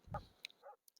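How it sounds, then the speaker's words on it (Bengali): A dog barks in the horror escape game Metel Horror Escape: a short, muffled bark near the start, then a fainter yelp-like cry, with a few small clicks at the end. "একটা কুকুরের আওয়াজ পাচ্ছি"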